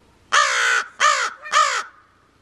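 A raven gives three loud, harsh caws in quick succession, each about half a second long, close by and alone against a quiet background.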